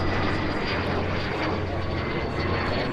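Orange and white Marquetti light aircraft landing at EAA AirVenture Oshkosh 2019, a steady, fairly loud propeller engine drone throughout with no talk.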